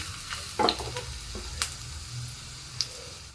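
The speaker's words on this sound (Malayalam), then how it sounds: "നമ്മൾ രണ്ട് ചെറിയ ഉള്ളി അരിഞ്ഞിട്ട് കൊടുത്തിട്ടുണ്ട് കേട്ടോ വെളിച്ചെണ്ണയ്ക്ക്" Chopped small onions frying in coconut oil, a soft continuous sizzle with a few sharp clinks and scrapes of stirring, close and moderately quiet.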